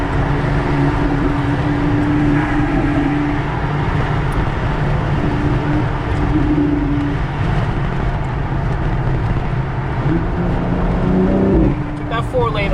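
A BMW M5 with an S58 engine accelerating hard at a car meet, a loud, sustained roar with shifting engine tones and road noise, heard close from inside or near the car as people talk over it.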